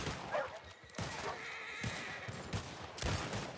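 Horse neighing in Red Dead Redemption 2, a whinny with a few clip-clop hoof sounds and thumps over steady wilderness ambience.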